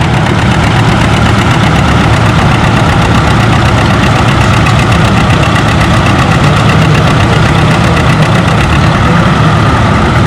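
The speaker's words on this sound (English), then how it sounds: "We got a good looking John Deere 70 on the sled." John Deere 70 tractor engine loaded hard pulling an 8,000-pound sled at a tractor pull, a loud continuous throbbing roar with heavy low-end knocking, steady throughout with no pauses.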